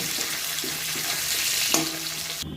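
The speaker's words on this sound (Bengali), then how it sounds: "মাছের মাথাটা আমি ভেজে নেব।" A fish head fries in hot oil in a pan, giving a steady, close sizzle and crackle with faint low background tones and a brief knock near the end.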